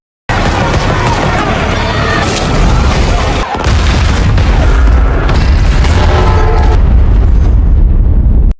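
A large explosion beside an airplane in a film, a loud, rumbling blast that roars on continuously with crackling debris and bursts, filling the whole clip.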